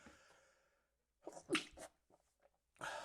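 A single sharp sneeze bursts out close by after a short breath, followed by a quieter second burst moments later.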